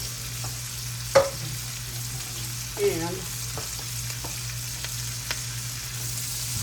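Cabbage stir-fries in a hot skillet with a constant, even sizzle and crackle, a few clinks and a brief scrape from stirring, and a low steady hum underneath.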